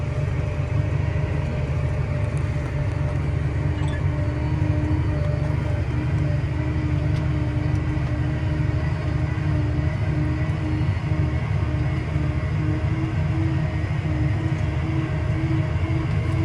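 A tractor pulls a planter through a field, its engine giving a loud, steady low drone with a constant hum and no breaks, heard from the cab with no talking.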